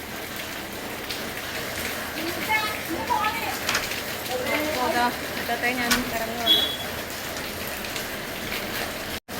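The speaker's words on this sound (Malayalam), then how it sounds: "ഓക്കെ, നല്ല മഴയുണ്ട്." Heavy rain pours steadily at a house as people get ready to leave for a wedding, a dense close hiss running throughout with a person speaking briefly over it.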